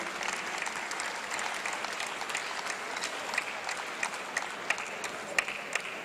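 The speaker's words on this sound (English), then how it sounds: "once again, applause for him." Audience applause at a junior European boxing championship finals evening session in Tbilisi, a sustained crowd clapping at moderate distance with a few sharper individual claps standing out toward the end.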